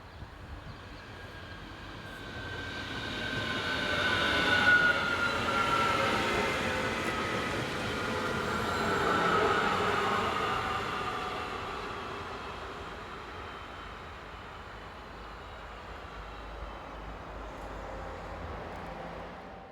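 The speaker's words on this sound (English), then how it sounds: "Four ICE and 4 local services make up the passenger trains seen along this line each hour." Passenger trains, including ICE and local services on a German main line, rumble past as a broad, steady roar that swells twice and slowly fades, heard from a moderate distance with no one talking.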